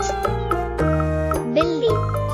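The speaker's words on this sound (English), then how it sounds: "Cat." A domestic cat meows a few times over steady background music, in a children's animal-sounds sequence.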